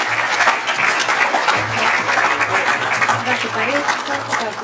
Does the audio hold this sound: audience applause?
yes